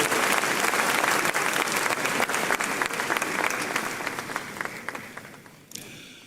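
An audience at a law school honorific lecture breaks into loud sustained applause, dense clapping that gradually fades and thins out toward the end.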